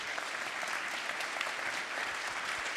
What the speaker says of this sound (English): I think it's really worth a round of applause for Erich that he